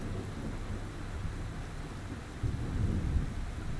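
Steady rain and low rolling thunder play in a farming video game. The thunder is a faint, distant rumble with a swell near the end, and no one speaks.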